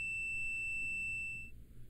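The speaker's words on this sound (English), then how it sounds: "the meter's buzzer will sound." A digital multimeter's continuity buzzer sounds as a steady, shrill electronic tone held for about a second and a half before cutting off, leaving a low hum behind.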